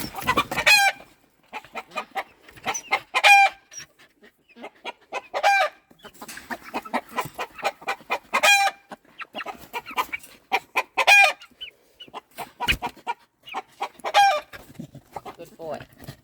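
Chickens on a farm cluck and squawk in repeated bursts, fairly close, with brief quiet gaps between the calls.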